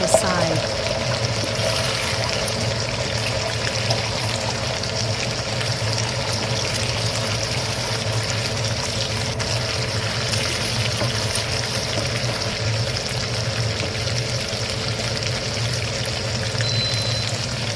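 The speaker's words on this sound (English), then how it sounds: "add the beaten eggs and stir fry over high heat until they are set" Beaten eggs stir-fried in hot oil over high heat in a pan, a steady, continuous sizzle running evenly throughout with a low background hum.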